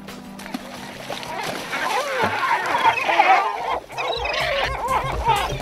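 Gulls squawk and cry in a noisy overlapping flock while being fed fish from a boat off Norway's Lofoten and Vesterålen coast, with water splashing close by and a voice calling over them.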